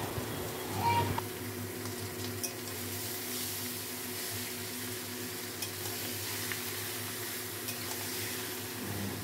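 Marinated mutton frying with browned onions in a pot, a continuous close sizzle with a brief clatter of stirring near the start, quiet and steady throughout.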